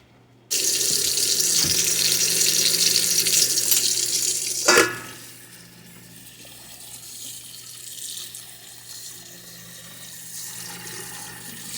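Cooked pasta noodles for chicken alfredo drain in a kitchen sink under a loud rushing faucet stream that stops abruptly, leaving quieter trickling and dripping.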